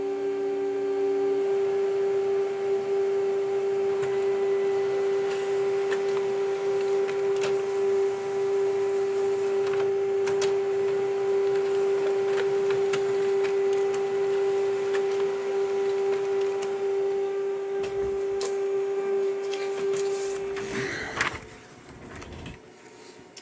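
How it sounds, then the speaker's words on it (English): An old laser printer printing out instrument traces, a steady whirring hum with a strong constant tone and faint mechanical ticks throughout, ending in a short burst of clatter as the page finishes. "on the old handy-dandy laser printer"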